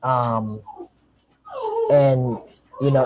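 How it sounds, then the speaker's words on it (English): A dog whimpers and yips in the background in short, high, whining bursts, with pauses between them and the loudest cry at the end, heard indoors at a home while someone works from home. "Oh man, sorry, my dog's in the background."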